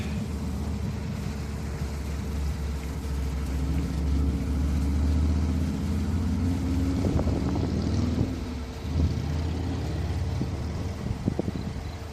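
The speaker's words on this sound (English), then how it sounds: "I'll show you some vehicles climbing the big hill." Vehicles climb a big hill on a road near Osoyoos, British Columbia, a low, steady engine rumble that swells and fades at a distance, mixed with wind noise on the microphone.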